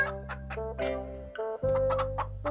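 A cartoon hen clucking in a short run of bright, rhythmic calls, close and clear with no talk, from an animated Ninja Hattori episode.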